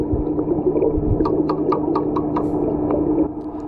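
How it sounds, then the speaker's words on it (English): A small wrench taps a metal pool ladder right beside an underwater camera, giving a rapid, evenly spaced series of about eight bright clinks over a low, steady underwater hum. "Melanie were to tap the ladder right next to the camera with this small wrench"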